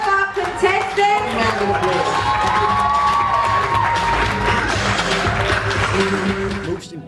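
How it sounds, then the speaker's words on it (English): A live audience at a contest finale cheers, whoops and applauds for the contestants in a sustained, loud crowd roar, with voices shouting over it. "Give a round of applause to all of our contestants."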